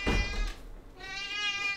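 A cat meows twice nearby in a quiet room: a first drawn-out, wavering cry, then a brief pause, then a second plaintive meow, clear and alone without talk.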